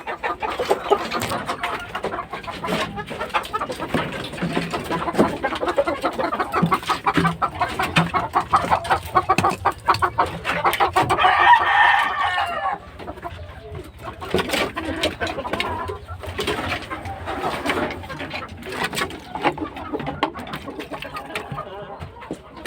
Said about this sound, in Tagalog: Yan ang kanaway na inahin.